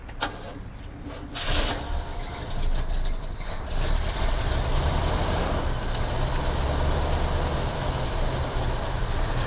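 The engine of a 1969 Cadillac Fleetwood with a failed fuel pump turns over and runs on fuel poured into the carburetor, a rough, loud low rumble that builds and holds steady.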